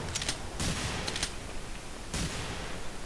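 Bursts of rapid gunfire from the Hidden: Source video game, several loud volleys firing in quick succession over a constant noisy background.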